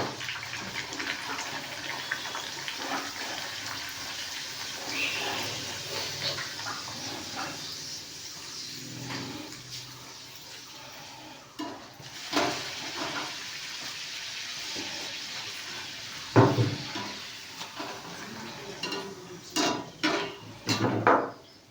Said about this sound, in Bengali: এবার লুচিগুলোকে ভাজতে হবে। তো ভাজার জন্য আমি ছোট্ট একটা কড়াই নিয়েছি এবং তাতে সাদা তেল দিয়ে নিয়েছি।